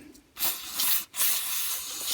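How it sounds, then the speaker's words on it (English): Two short hissing bursts from an aerosol can of carburetor cleaner sprayed on a Honda HR173 mower float, close up, separated by a brief pause, with no talking. "I will just use a little bit of carb spray on that"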